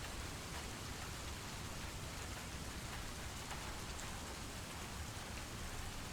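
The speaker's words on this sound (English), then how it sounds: "It's the rainy snow background." Steady rain falls in a continuous background ambience, a dense even hiss of drops on surfaces with no break and no distinct thunder, quiet and unvarying throughout.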